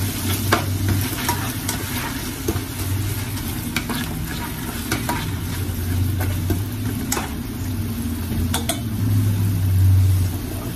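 Onions frying and being stirred in a pan, steady close sizzling with repeated scraping and clinking strokes of the utensil throughout, no talking.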